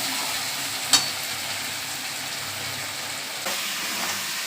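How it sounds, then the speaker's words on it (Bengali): Spice paste (masala) fries in a pan for prawn curry with potato and pumpkin, a soft continuous sizzle with a couple of sharp clinks of a spoon against the pan, fairly quiet and free of talk. "মশলাটা একটু কষিয়ে নিই।"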